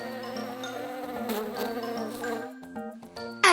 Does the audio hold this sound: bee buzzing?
yes